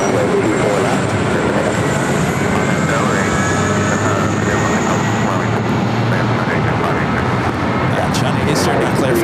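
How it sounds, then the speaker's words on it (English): Emirates Airbus A380 taking off at LAX, a broad steady jet engine roar that fills the whole stretch at loud, constant level, with faint voices in the background. "We should see this A380 take off back here on the north side."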